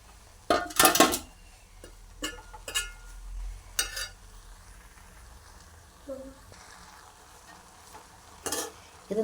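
Chopped greens are stirred in a frying pan, with scattered scrapes and clinks of the utensil against the pan over a soft sizzle, some bursts loud and close, separated by quieter gaps.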